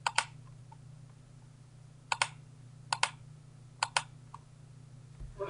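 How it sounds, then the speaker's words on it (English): A handful of separate keyboard key clicks, some in quick doubles, spaced out over a low steady hum. "You can probably just hear my keyboard keys there"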